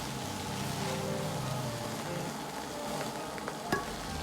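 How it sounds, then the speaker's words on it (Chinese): Steady, close sizzling of drained duck meat being stir-fried in a wok over medium heat with lard, a continuous crackle with a brief scrape of the spatula near the end. "接着倒入控干水分的鸭肉，保持中火煸炒"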